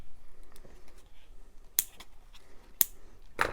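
Scissors snip through paper for a vintage Christmas junk journal, with three sharp, close cuts spaced about a second apart against a quiet background.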